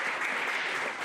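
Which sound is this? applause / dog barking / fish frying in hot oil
applause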